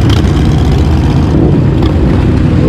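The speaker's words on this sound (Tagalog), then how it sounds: "Pinapainit na po ate ng mga makina." Harley-Davidson motorcycle engines warming up before a group ride, a loud, continuous deep rumble of idling engines close by with no talk over it.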